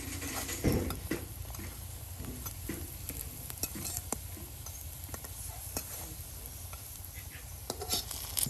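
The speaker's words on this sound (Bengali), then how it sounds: "ডালের বড়া একটা একটা দিচ্ছে আর তার সাথে তেলের সাথে ভাজা ভাজা হয়ে যাচ্ছে" Lentil fritters (dal bora) frying in hot oil, a steady low sizzle with scattered crackles and clinks of stirring throughout, no voices.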